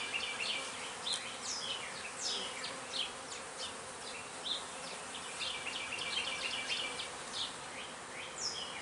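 Honeybees at a young hive make a steady, soft buzzing hum, with individual bees whining past close by in quick, scattered passes, and no voices.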